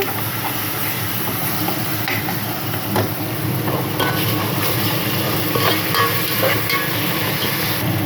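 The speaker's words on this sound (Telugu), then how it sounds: "ఈ పచ్చివాసన పోయినంత వరకు లైట్గా వేయించాలి." Spice paste for biryani frying lightly in a pan, a steady soft sizzle and hiss with a few faint scrapes of stirring, continuous and close throughout.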